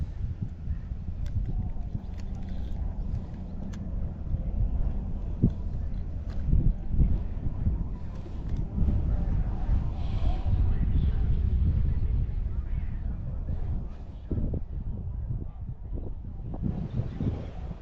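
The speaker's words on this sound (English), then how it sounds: "the wind is picking up" Outdoor wind blows steadily across the microphone, a continuous low rumble with gusty swells, while someone talks over it throughout.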